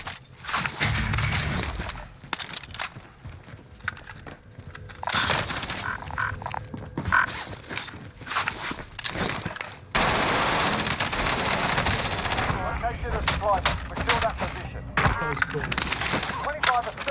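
Bullfrog SMG fire in the shooter game Warzone, loud rapid bursts of automatic gunfire repeating throughout with brief pauses, mixed with game effects and a player talking over it.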